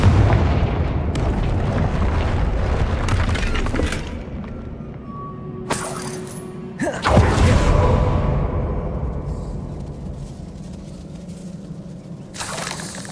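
A Confringo blasting spell goes off in the Hogwarts Legacy video game, a loud booming burst with shattering debris, set among other crashing and rumbling game effects.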